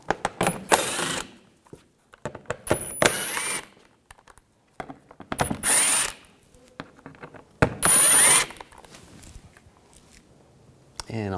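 A power tool with a T25 socket buzzes in several short, loud bursts as screws come out of a 2011-2018 Volkswagen TDI Jetta Wagon during CV axle replacement, with someone talking between the runs.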